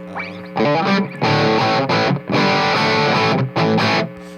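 Heavily distorted electric guitar through a Kinman PAF Astound humbucker split to single-coil in the bridge position with high gain, loud and thick, played in bursts of chords and riffs with brief gaps between phrases.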